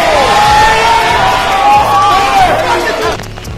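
Crowd at a rap battle cheers and whoops loudly and close, a sustained roar with high shouting voices that fades near the end.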